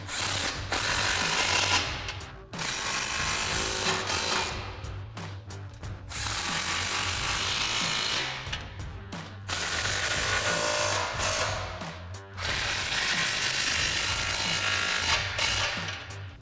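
A ratchet clicks repeatedly as exhaust clamps are tightened on a Silverado 2500 exhaust system. Bursts of rapid clicking come in several rounds, each separated by brief pauses, close and fairly loud.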